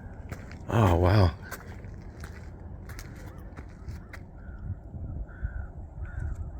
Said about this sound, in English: The brisk air and the crows cawing.